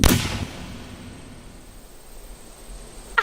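A single sharp gunshot cracks at the very start, then a long quiet tail of faint hiss, with a brief click near the end.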